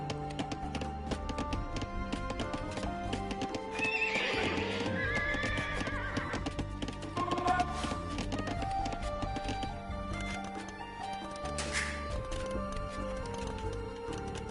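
Horses neigh and whinny over a steady clip-clop of hooves in the Age of Empires 2 strategy game, with a busy layer of clicks and music continuing throughout.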